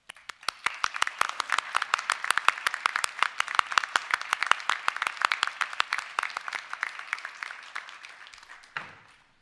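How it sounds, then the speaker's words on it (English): A graduation ceremony audience claps in a hall, brisk scattered applause building quickly, holding steady for several seconds, then fading out at the end. "please give a round of applause for all those people here on the stage and behind you"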